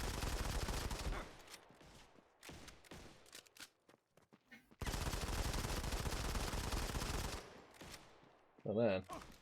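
Dense automatic gunfire from the Modern Combat 5 mobile shooter roars in long loud bursts, broken by a short quieter gap with scattered shots, then resumes; a brief voice is heard near the end.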